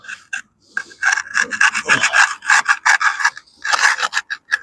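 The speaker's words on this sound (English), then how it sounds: "You can use a stick for doing this, of course, just to level it" A wooden tamping stick scrapes and rasps across wet cement to level it, a run of close, rough strokes in uneven bursts with short pauses between them, no talk.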